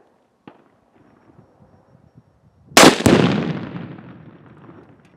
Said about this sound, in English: Let's shoot up some tannerite.